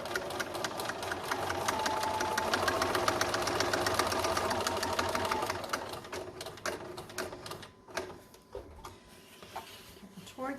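A sewing machine stitches a concealed carry belly band in fast, steady rhythmic clatter close by, then slows into short stop-start bursts, with some quiet talking in the background.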